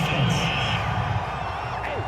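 A stadium crowd at a Cowboys at Bills football game boos and roars after a penalty call, a loud, sustained wall of sound with whoops rising above it.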